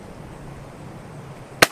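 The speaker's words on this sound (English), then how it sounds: "Let's go ahead and aim downrange, take a shot, and see what happens." A single sharp rifle shot from a CZ527 in 7.62x39 at an outdoor range, one loud crack after a stretch of quiet ambient background.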